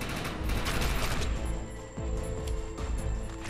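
Gunfire in the video game Defiance, sustained rapid bursts of automatic weapon fire and impacts, loud and continuous, with battle noise underneath.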